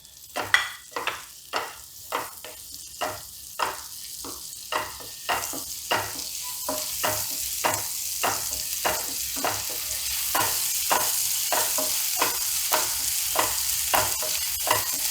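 Ginger garlic paste sautés in a pan with kasuri methi for masala pav. A soft sizzle runs under repeated rhythmic scrapes of a spoon stirring, and the hiss grows stronger toward the end.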